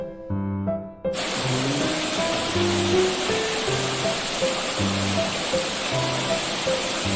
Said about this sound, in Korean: 여긴 무우폭포입니다.